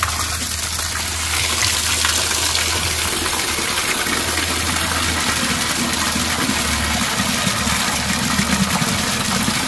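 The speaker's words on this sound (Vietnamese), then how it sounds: "Xả nước rửa." Tap water runs hard for rinsing while fish is prepared, a loud, continuous gushing wash with a low rumbling hum underneath, steady throughout.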